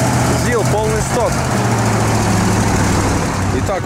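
A stock ZIL army truck engine runs off-road, a loud, steady, close-up drone with a constant low throb and a few brief higher tones near the start.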